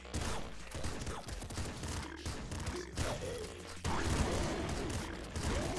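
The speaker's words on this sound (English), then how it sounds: "you've decided to fire off a ton of missiles as well" Dense, continuous gunfire and explosive blasts from enemies launching many missiles in the Nuclear Throne Ultra Mod game, a busy chaotic barrage with sharp bursts and loud impacts throughout, no talking heard.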